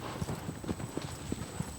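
Horse hooves clip-clop in a steady galloping rhythm in the video game Shadow of the Colossus, a run of evenly spaced muffled beats at moderate level under a faint background hum.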